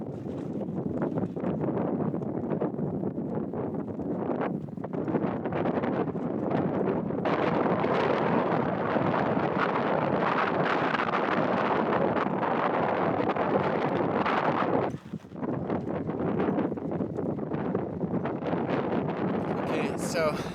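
Strong sandstorm wind in Morocco, heard from a cyclist's position, roars and buffets the microphone almost without pause, briefly dropping once before surging again.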